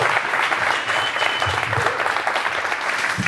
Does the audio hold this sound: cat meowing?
no